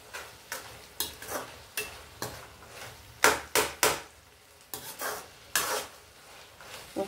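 Mango pieces go into a pan of Telugu brinjal curry and are stirred, with a series of scraping, rasping strokes against the pan, some louder and sharper than others, over a faint gentle sizzle.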